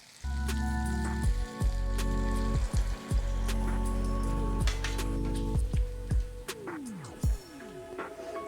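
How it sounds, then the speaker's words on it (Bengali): Milk poured from a bowl into navratan korma in a pan, a steady liquid splash and sizzle running continuously for several seconds with a few softer breaks, fairly close and loud. "এখন দিয়ে দেবো 1 বাটি দুধ।"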